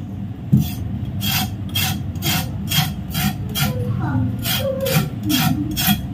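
White cassava tubers being scraped for tapai, a steady run of about a dozen rhythmic rasping strokes, close and fairly loud, with faint low background murmur between strokes.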